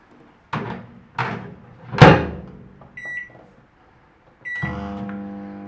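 A microwave oven melting butter for clarified butter gives several clunks and a door thump, a short beep as it is stopped, then another beep and a steady running hum.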